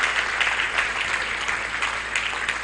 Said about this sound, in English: let's give the Chief Justice of the Federation a round of applause